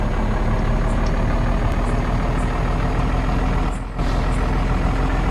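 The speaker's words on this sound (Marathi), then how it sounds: "आपण ट्रकला हळूहळू चालू थोडं" A heavily loaded truck in a truck driving video game rumbles with a steady, loud engine drone as it moves slowly, with no talk over it.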